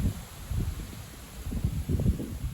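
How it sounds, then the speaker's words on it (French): Gusty wind blowing during a brief thaw snowfall in a southerly wind, a steady low rumble that swells and buffets in waves, loudest in the second half, with no voices. "C'est neige et rafale de vent"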